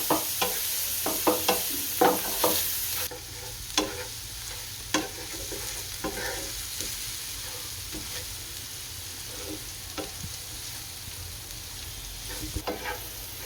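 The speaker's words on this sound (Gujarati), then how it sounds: "આપણા કાંદા સારી રીતના સડી ગયા છે" Onions sauté in a pan for Gujarati gathiya nu shaak, giving a steady frying sizzle broken by repeated scraping stir strokes, loudest early on and then settling into a softer crackle.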